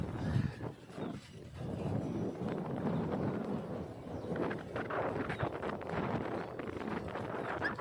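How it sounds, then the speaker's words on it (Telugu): Strong gusting wind buffets the microphone outdoors under dark skies before a hailstorm, a continuous low roar with rushing surges and no voices. "చాలా డార్క్నెస్, గాలి ఫుల్ ఉంది"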